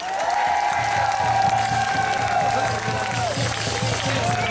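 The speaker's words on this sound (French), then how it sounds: "Une bonne main d'applaudissement pour Stéphane Blais!" A crowd at an outdoor protest march in Trois-Rivières claps and cheers for a speaker, steady dense applause with scattered shouts, loud and continuous, with a voice briefly audible over it.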